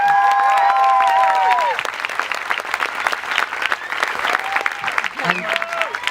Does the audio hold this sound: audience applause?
yes